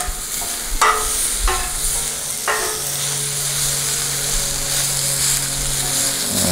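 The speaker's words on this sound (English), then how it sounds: "Right now I'm just stirring it around, just keeping it going. Keep that high heat on it. Making sure that meat is hitting that grill" Pepper steak and vegetables sizzle loudly on a hot Blackstone griddle, a constant bright frying hiss broken by a few sharp scraping strokes of a spatula as the food is stirred.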